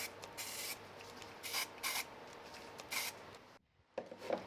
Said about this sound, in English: So I'm just going to use a little bit of spray glue underneath.